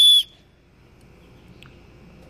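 A small whistle built into the buckle of a 3-in-1 survival bracelet gives one very short, shrill, high-pitched blast at the start. Quiet background follows.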